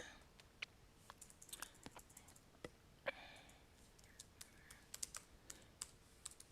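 Fast, uneven computer keyboard typing, a steady patter of close, crisp key clicks with a few sharper taps, heard alone without talk.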